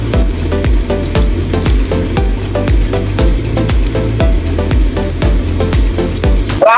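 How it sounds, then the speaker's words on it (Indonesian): Shallots and garlic frying in hot oil in a pan, a loud, close, continuous sizzle broken by a steady rhythm of regular stirring scrapes. "panaskan minyak, masukkan bawang merah, bawang putih"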